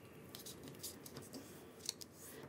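Scissors cutting folded paper for a penpal craft, faint snips and paper rustle at close range over a quiet background, with a sharper snip near the end.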